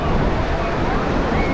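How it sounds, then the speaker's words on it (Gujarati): Sea waves roll in at Ubharat beach near Surat in Gujarat, a loud, continuous surf roar mixed with wind buffeting the microphone, heard up close with no voices over it. "આ દરિયાનો કિનારો છે"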